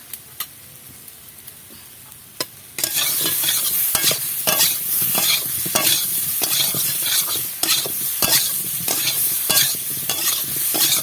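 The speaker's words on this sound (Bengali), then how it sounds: "এবার এটা ভালো করে ভাজা ভাজা করে নেব" Ground cumin, coriander and chilli powder fry in a pan, hissing in a steady loud sizzle after a quiet start, broken by regular scraping stirs and occasional clinks.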